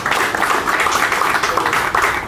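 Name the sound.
audience applause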